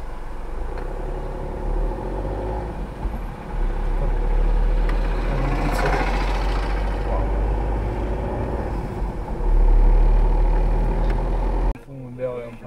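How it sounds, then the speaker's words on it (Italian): A tractor towing a Fiat 500 on an Italian road, heard as a steady low engine rumble and road noise from inside a car, with people talking over it throughout. "Un trattore che traina una 500."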